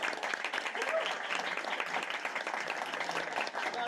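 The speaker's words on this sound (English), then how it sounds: "a quick round of applause to Andrew Sturck" An audience at an academic conference's closing panel gives a brief round of applause, a fairly faint, even patter of clapping that continues for a few seconds.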